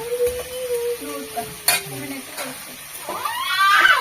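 Chicken pulao masala frying and being stirred in hot oil in a home kitchen, with close scraping strokes of a utensil against the pan over a steady sizzle and a few clinks of metal.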